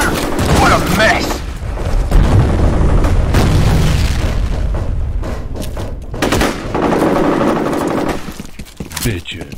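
Heavy gunfire in F.E.A.R. combat, with loud, continuous machine-gun bursts and booming impacts filling the whole stretch while soldiers' voices call out over the chaos.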